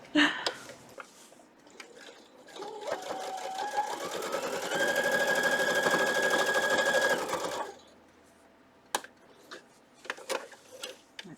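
A sewing machine stitches quilt fabric in a close, steady whirring run of several seconds, bracketed by quieter handling clicks and taps before and after.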